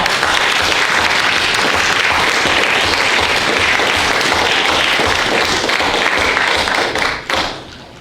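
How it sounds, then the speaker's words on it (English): A room of attendees at an annual meeting gives a sustained, dense round of applause, steady and loud for about seven seconds before tapering off abruptly at the end. "So if we could have a round of applause."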